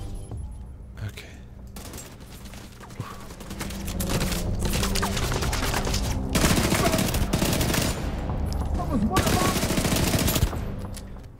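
MP5 submachine guns fire in long, dense automatic bursts in The Division 2, loud and continuous with booms mixed in, while a voice talks faintly underneath.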